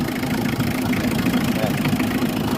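A 2012 Mitsubishi L300 van engine idles steadily up close, a continuous mid-low hum with a faint ticking rhythm, heard beneath background voices.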